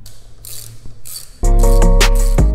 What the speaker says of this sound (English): Tighten this bolt until you can't no more.